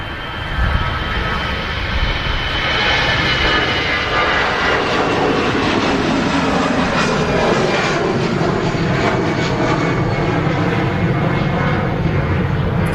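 An EasyJet airliner departing Manchester Airport roars loud and steady throughout, a continuous broadband jet engine rumble with a slight rising whine, heard alone without talk.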